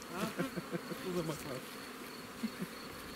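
Honey bees buzzing around hives at an apiary in Moldova, a steady close drone with several louder passes of individual insects near the microphone.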